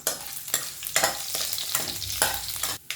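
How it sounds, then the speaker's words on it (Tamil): Chopped garlic sautéing in hot oil with mustard seeds and fenugreek for a Tamil paruppu urundai kulambu: a soft, steady sizzle broken by several quick scraping stirs of a spoon in the pan, with no talk. "இப்போ வந்து ரெண்டு பல் பூண்டு வந்து சின்ன சின்னதாக கட் பண்ணி சேர்த்துக்கிறேன் நல்லா வதக்கிக்கலாம்"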